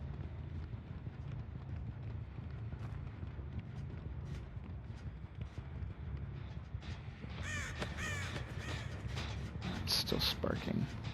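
Crows cawing inside a video game, a burst of harsh calls near the end over a steady low rumble of game ambience and hoofbeat-like thuds.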